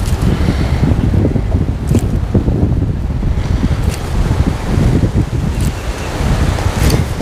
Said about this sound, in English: It's so hard to tell with this wind blowing the line around.